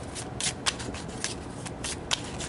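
A deck of double-sided tarot cards is shuffled by hand, giving close, crisp riffling bursts in a quick irregular rhythm with a few sharper snaps between them.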